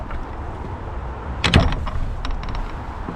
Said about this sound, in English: Make sure I shut the door behind me.